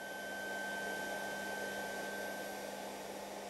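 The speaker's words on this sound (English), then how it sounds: "We'll be vacuuming on a lower setting." A vacuum cleaner run on a low setting over embroidered silk during textile conservation surface cleaning, giving a steady, even whirring drone with a faint tonal whine, close and alone with no talking.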